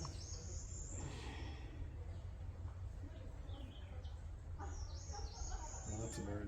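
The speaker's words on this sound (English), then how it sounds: "Lots of birds." Birds chirp in a spring garden with paths and seating, the calls scattered and fairly distant over a steady outdoor hiss, with some breathing and faint voices nearby.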